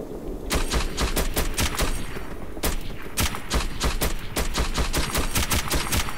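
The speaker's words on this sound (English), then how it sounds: "I can't even see where I'm shooting." Dense, rapid gunfire from the Metro 2033 shooter rattles in fast repeated bursts, loud and close with sharp cracks over a constant noisy backdrop and no talking.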